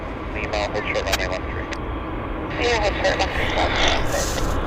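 A Delta SkyWest airliner departs from Vancouver airport with a broad, steady engine roar that swells slightly toward the end, with voices in the background.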